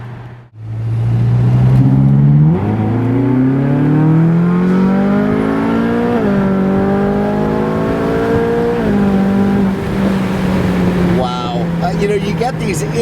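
A Ferrari California engine pulls hard through the gears, a loud, close rising whine with quick pitch drops at each instantaneous shift, repeated three or four times.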